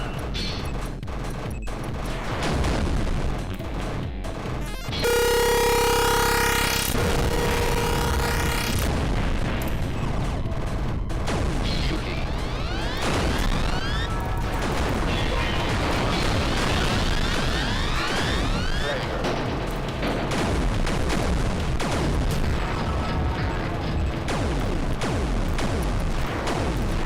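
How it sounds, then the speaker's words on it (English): Dense bursts and booms from a fireworks show in the Tempest 4000 arcade shooter, loud overlapping blasts and sweeping synthetic tones filling the whole stretch with little pause. "The fireworks show."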